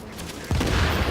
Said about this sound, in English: Looks like a good sticky bomb to the face.